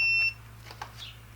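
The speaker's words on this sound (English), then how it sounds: "you should get a beep from L1 to H1" A continuity tester gives a single short, high electronic beep while checking a Frigidaire/Kenmore warming drawer switch, followed by faint clicks and handling sounds in a quiet room.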